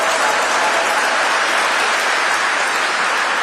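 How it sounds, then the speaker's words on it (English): A church audience at a eulogy for Ethel Kennedy applauds loudly and steadily, a dense wash of clapping from many hands without pause. "I'm sure you're clapping because I'm the last speaker"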